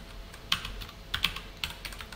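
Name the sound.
typing code on a computer keyboard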